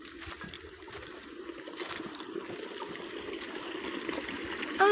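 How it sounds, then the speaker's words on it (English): Rushing water from a waterfall, a soft, continuous hiss and burble heard from some distance, gradually growing slightly louder, with a brief bird-like chirp near the end. "I hear waterfall."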